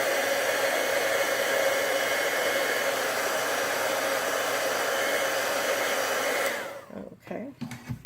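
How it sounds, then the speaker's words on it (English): A handheld heat tool blows a steady loud whoosh while heat-setting black archival ink on a card, then cuts off and the fan spins down into quiet rustling. "go ahead and heat set it with your heat tool"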